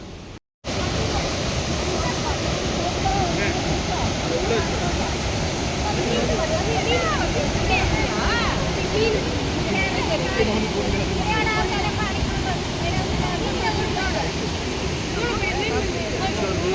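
A waterfall in Kerala, heard from the top, roars as a steady loud rush of falling water, broken only by a brief cut at the very start.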